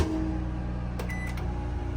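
A microwave oven hums steadily with a low electrical drone, a few short beeps from its keypad partway through, nearby and fairly loud.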